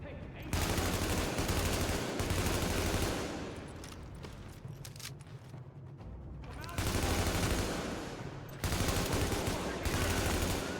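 Sustained bursts of video-game gunfire from a heavy-recoil weapon during an apocalyptic New York shooter, loud rapid volleys in three long stretches with a slightly quieter, busy battle noise between them.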